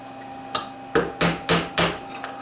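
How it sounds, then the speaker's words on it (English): Light hammer taps on a part of a Harley Davidson X90 minibike under restoration, about five or six short metallic knocks in an uneven series, close and fairly crisp against a quiet workshop background. "I'm not hitting it hard, just tapping it."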